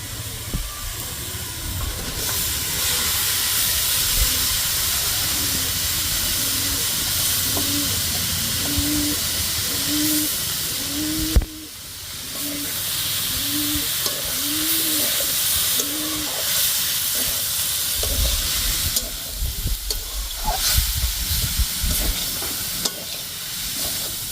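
Jackfruit and boiled potatoes go into a pan of cooked-down spice mix, followed by a continuous loud sizzle and hiss with stirring scrapes and a brief break partway through.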